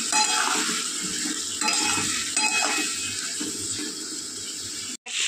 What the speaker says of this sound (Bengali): সঙ্গেই দিয়ে দেবো আদা রসুন পেস্ট, দিয়ে খুব ভালো করে কষিয়ে নেব